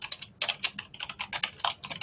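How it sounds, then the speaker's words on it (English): Rapid, steady keystrokes on a computer keyboard while entering text in AutoCAD, a close, dense patter of clicks with small pauses and no talking. "I'm just going to type"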